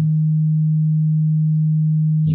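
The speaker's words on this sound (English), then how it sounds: "You can see our beautiful perfect sine wave here," A pure, steady sine wave tone from an M8 Tracker synthesizer holds at one low pitch, loud and unbroken, and cuts off abruptly at the end.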